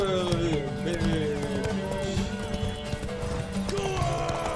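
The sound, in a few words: horse hooves while riding, from the video game Witcher 3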